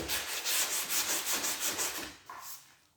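Sanding old lacquer off the timber of a Huon pine sail boat, loud close rasping strokes rubbing back and forth in a steady rhythm, then a short shift in tone near the end.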